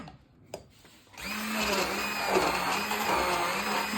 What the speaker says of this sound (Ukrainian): перебовтаю блендером